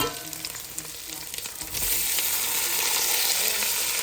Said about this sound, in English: now I'm gonna add my beef back in